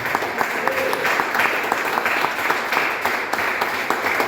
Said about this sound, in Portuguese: Vamos dar ao Senhor Jesus mais um aplauso